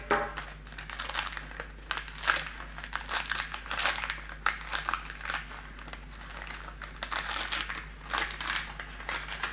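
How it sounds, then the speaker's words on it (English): Backing paper peeled slowly off a fused panel of woven men's ties, a quiet, close crinkling and tearing rustle that comes in uneven bursts and pauses, no voices. "you can start peeling away the paper from the back"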